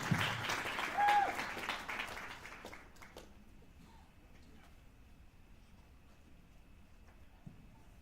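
Audience at a fall student project presentation event applauding a team as it sets up, clapping for about three seconds and then fading into quiet room noise.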